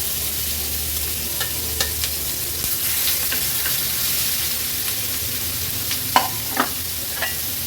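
Halwa fish roe hits a thin film of about two spoons of hot oil in a pan, giving a loud, steady frying hiss with a few scattered pops and utensil scrapes near the end, close and without talk.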